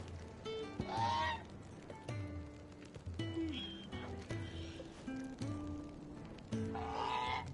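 Birds in a video game honk repeatedly in goose-like calls over a low, rhythmic background score, the calls close and moderately loud, with no talk.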